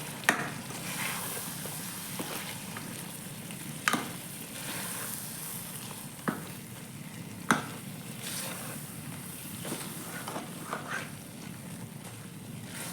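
Mutton keema masala with tomato fries in a pan, a soft steady sizzle broken by occasional sharp scrapes and knocks of a spoon stirring against the pan.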